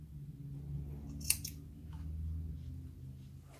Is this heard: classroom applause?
no